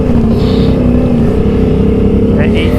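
A 2020 Can-Am Outlander XMR ATV with a swapped 850 engine, running loud and close off-road in mud, holds a steady throaty engine drone with slight pitch wavering, a voice briefly audible over it.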